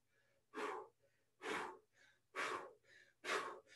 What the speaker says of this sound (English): You might notice my heavy breathing here.